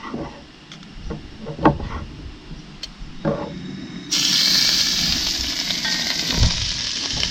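Pieces of snapping turtle drop back into hot oil and fry until crispy: a few clattering knocks and scrapes, then a loud, steady sizzle that holds to the end, near and without speech.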